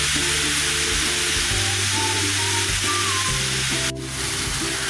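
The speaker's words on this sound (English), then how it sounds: "here we are searing this" Brisket searing in a hot pan gives a loud, continuous broadband sizzle with steady tonal humming underneath, dipping briefly near the end.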